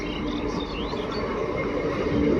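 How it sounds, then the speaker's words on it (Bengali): A train pulling into a station, a loud steady rumble of rolling wheels with faint metallic squeals, close by and swelling slightly at the end. "ওই যে আমাদের ট্রেন চলে এলো, এবার আমরা উঠবো ট্রেনের মধ্যে।"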